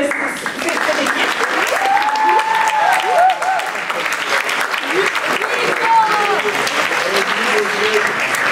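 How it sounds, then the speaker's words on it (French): Conference audience applauding a student maths team's presentation: dense, steady clapping for the whole stretch, with a few whoops and voices rising through it. "on va applaudir cette équipe"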